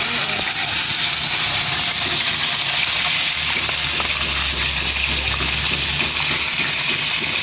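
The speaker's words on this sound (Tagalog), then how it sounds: "Magprito na po tayo ng tilapia" Tilapia frying in hot oil in a pan, a dense continuous sizzle and hiss that holds steady and loud throughout, with small crackles and no talk.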